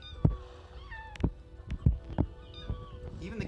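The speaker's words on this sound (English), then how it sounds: "Even the cats sound different sounds." Several cats and kittens in the Minecraft video game meow in short separate calls, about six or seven quick mews over a few seconds, fairly clear and close with light background.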